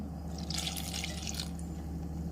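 About a second of water splashes and trickles into a cooking pot of ridge gourd seasoned with turmeric and sambar powder, close by over a low steady background hum.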